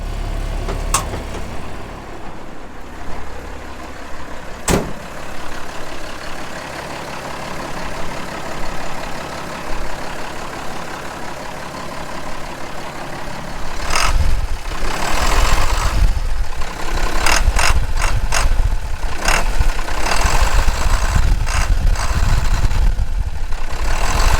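A 1988 International S1754 diesel dump truck with a scissor-lift bed runs at a steady, rumbling idle. The engine grows louder and rougher about halfway through, with a few sharp mechanical clicks and no voices.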